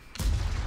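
A tank's main gun fires in World of Tanks, a single loud, heavy boom that hits suddenly and then rolls on as a low, sustained rumble with no talking.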